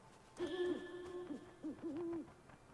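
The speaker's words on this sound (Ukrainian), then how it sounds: "сова." An owl in the video game Never Alone gives a clear, fairly close hooting call, a few wavering tonal hoots in quick succession, heard alone without talk.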